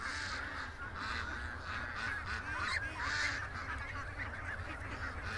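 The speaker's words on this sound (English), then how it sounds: "the ducks were freaking out" Ducks or geese honk and squawk in a noisy, agitated flock, overlapping calls pulsing continuously at moderate distance against a steady low rumble.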